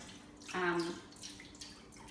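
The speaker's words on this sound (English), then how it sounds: "So I do have some leftover chicken broth from another recipe. So I'm just going to pour that along the side." Leftover chicken broth is poured along the side of a pot into a braise of salsa verde pork, giving a brief, close liquid gush of about half a second against a quiet kitchen background.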